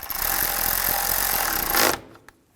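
A power tool runs steadily for about two seconds, driving down a bolt on the radiator of a 2013-16 Nissan Sentra, then cuts off, leaving a faint clink in near silence.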